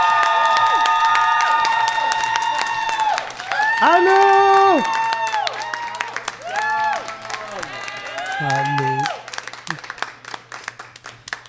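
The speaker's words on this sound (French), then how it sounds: "Applaudissez dès maintenant" Studio audience applauding and cheering to welcome guest Sonia von Sacher onto a French-language show, a loud sustained crowd wash with an excited voice calling out over it and musical sounds layered in.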